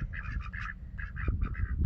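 A farm duck quacks in a quick run of repeated, nasal calls, close and clear, with a short pause midway before another burst, over low rumbling background noise.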